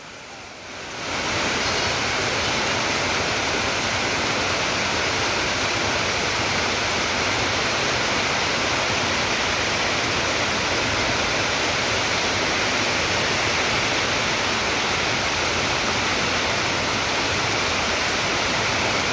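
Steady, dense rain pours down in a loud, unbroken wash after a brief quiet start, holding even and close for the full length with no voices.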